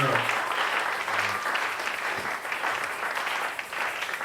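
A church congregation applauds during a Sunday service, sustained hand clapping filling the room with voices rising under and through it.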